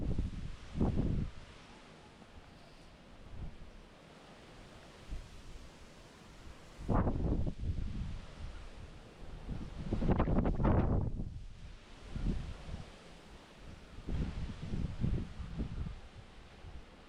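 Strong wind gusts buffeting the microphone on a misty mountain hike, roaring in several heavy bursts around the middle and end with quieter rushing between them.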